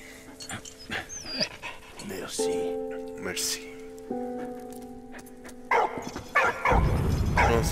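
A dog in the First World War video game Valiant Hearts: The Great War barks and pants in short bursts amid game sound effects and music, with louder rumbling noise toward the end.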